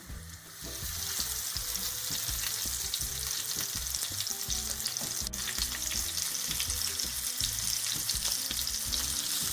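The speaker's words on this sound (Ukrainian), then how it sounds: "І кладемо на сковорідку, трішки притискаю" Loud, constant sizzling of fish cutlets frying in a pan, a dense crackling hiss that continues unbroken, with no talking.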